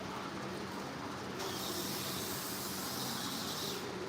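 A spray bottle mists a water-based hair enhancement product during a live barbershop haircut, giving a steady soft hiss across the whole stretch with no talk over it.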